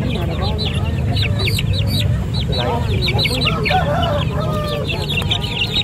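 Young Bangkok chickens, one to two months old, cluck and chirp busily at a Makassar chicken market, with many overlapping calls and a faint crow over a constant crowd murmur.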